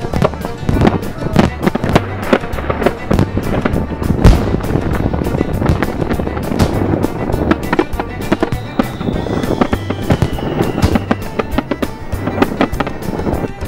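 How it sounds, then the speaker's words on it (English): Fourth of July fireworks over the bay at Bar Harbor, Maine, heard from a boat: a dense, loud barrage of cracking and popping bursts going off in rapid, uneven succession, with a steady rumble beneath. "It's 4th of July, and I can't wait to see the fireworks from the bay."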